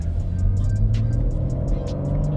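BMW M3 G80 accelerating, heard from inside as a loud low engine rumble with a rising drone, overlaid by rapid ticking clicks.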